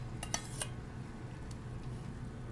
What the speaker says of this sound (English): To that, we're gonna start sauteing our sprouts.